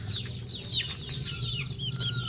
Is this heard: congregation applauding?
no